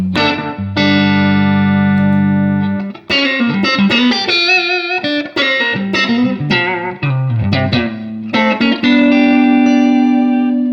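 An electric guitar plays sustained chords and quick single-note runs through a clean tube amplifier with a warm, full tone and some reverb, loud and alone.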